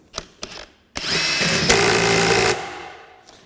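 A Metabo HPT 18V half-inch impact wrench set to level 4 taps briefly a few times, then runs in a sustained close whirring hammer burst while tightening a nut before stopping.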